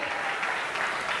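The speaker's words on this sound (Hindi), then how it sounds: "जोरदार तालियां।" An audience at a stage speech applauds loudly, a dense steady wash of clapping from many hands throughout a short burst.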